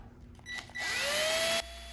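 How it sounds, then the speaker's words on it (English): A small drill bit bores into pallet wood in a short close burst, the motor whine rising and holding for under a second before stopping abruptly. "I started with the small drill bit."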